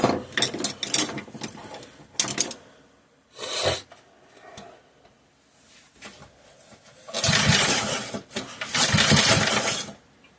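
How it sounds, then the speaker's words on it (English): A ratchet wrench snugs the spark plug on a 3 hp Briggs and Stratton engine, giving close, loud bursts of rapid clicking separated by quieter pauses. "I just want to double check to make sure that spark plug is indeed tight."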